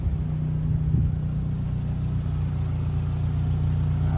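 A 2005 Lotus Elise engine idling nearby with a low, steady rumble and a slight rev near the start, otherwise even and unbroken.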